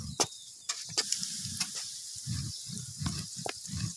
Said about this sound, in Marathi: हे बा कसे भारी शिजलेले आहे आता. त्याला ना हलवून घ्यावा लागतो,